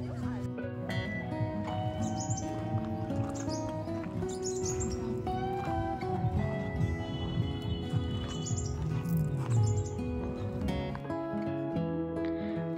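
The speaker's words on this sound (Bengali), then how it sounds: "একটু একা বসে পাখির কিচিমিচি শুনতে বেশ ভালোই লাগছিল।" Birds chirp and tweet in Chilapata forest, with bright calls scattered throughout under a dense layer of people talking and background music.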